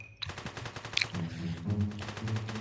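Rapid bursts of gunfire from the bank-robbery video game One-Armed Robber, loud and dense machine-gun-like volleys across the whole stretch mixed with other game sounds.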